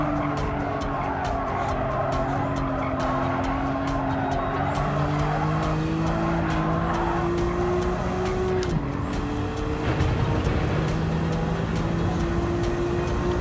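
A race car in Gran Turismo 7 brakes hard into a corner, tires skidding and squealing over a loud, steady engine roar, with no talk.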